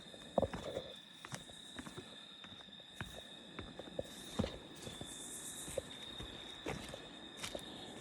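Faint, irregular hoof clops of horses walking slowly in a pasture, with a steady high insect drone in the background and no talking.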